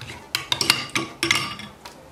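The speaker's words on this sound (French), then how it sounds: "vous allez mettre une cuillère de café à l'intérieur. Et vous allez remuer." A spoon clinks repeatedly against a cup of hot water with coffee, with quick irregular taps and scrapes up close.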